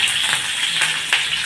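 Cumin seeds and curry leaves hit hot oil for dahi kadhi, giving a loud, close, steady hissing sizzle with a few sharper spitting bursts.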